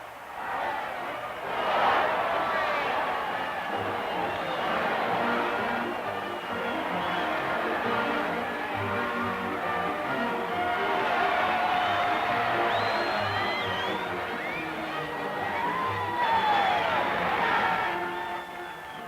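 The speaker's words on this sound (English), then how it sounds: "Big league baseball that attracts cheering thousands" Thousands of fans cheer at a big league baseball game in Missouri, a dense roar of whoops, whistles and shouts rising and swelling in waves, loud and continuous throughout.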